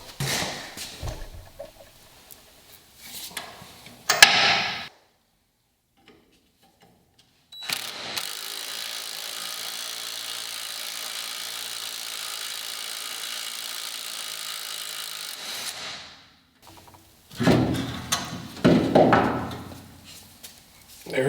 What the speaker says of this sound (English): I'm going to just first get them loosened up with a breaker bar.